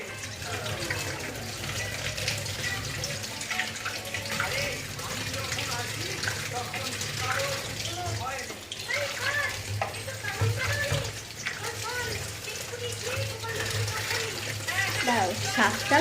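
Leafy greens are rinsed under a running tap in a home kitchen, with a steady splash of water over a low background hum and occasional clatter throughout.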